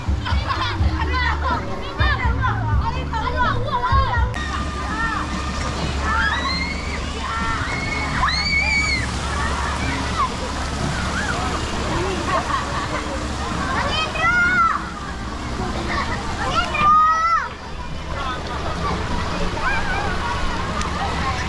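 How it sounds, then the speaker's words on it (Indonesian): At a swimming pool with a water slide, children shout and play amid sloshing, splashing water, a busy, lively crowd noise throughout, with someone speaking over it. "ini kita udah sampai di kolam renang yang dewasa ya. Nah, ini di seluncurannya di sini."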